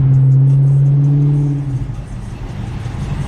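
A car fitted with a full exhaust revs loudly at close range, a sustained deep drone that drops off after about a second and a half into a rough, burbling idle.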